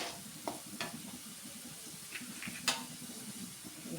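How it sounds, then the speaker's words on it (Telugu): Ingredients for curry leaf powder fry in a pan, a steady soft sizzle with occasional stirring scrapes and light clinks of a utensil against the metal. "కాస్త గోల్డెన్ కలర్ వచ్చేంతవరకు ఫ్రై చేయాలి."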